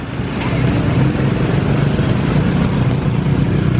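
A motorcycle trike engine runs close by on a Philippine street in Floridablanca, with a loud, steady, rough motor drone and road noise filling the whole stretch without break.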